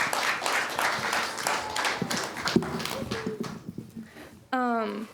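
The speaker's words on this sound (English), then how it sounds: "one more round of applause for all of our brave actors" Congregation applause for the young actors after a Passion narrative skit at a family church service. Scattered, fairly quiet clapping thins out over the first seconds beneath a speaking voice, and a louder voice comes in near the end.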